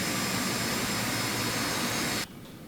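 Aerobask Phenom 300 jet engines running in the X-Plane 11 flight simulator, a loud, dense, steady turbine roar with a high whine that drops off abruptly near the end, leaving a quieter hum.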